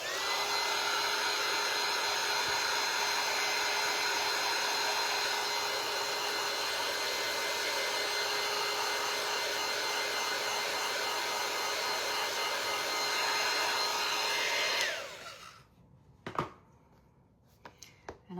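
A hair dryer blows at close range on glued wooden scoop pieces of oak, walnut and maple, a steady loud whine for about fifteen seconds before it switches off, followed by a few soft knocks.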